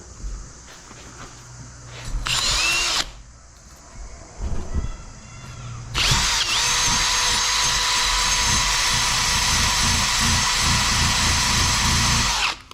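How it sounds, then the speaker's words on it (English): An angle grinder cuts metal near stuck bolts on a welding workbench, with short bursts and clanks before a long, loud continuous grind running to the end. "I've got to grind this and find a little nut to weld on there."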